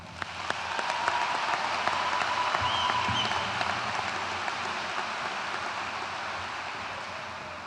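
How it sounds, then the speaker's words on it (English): Applause from the audience at the Sylvania Southview Class of 2025 commencement, a dense sustained patter of many hands that swells early and then holds steadily, fairly distant, with no talk over it. "join me in recognizing members of the senior class for the distinctions in academics and service with a final round of applause here."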